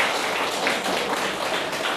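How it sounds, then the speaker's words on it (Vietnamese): Schoolchildren clapping for their teacher in a classroom during a city-level teaching competition, a dense, steady burst of applause filling the room. "Nhất trí cho cô một tràng pháo tay."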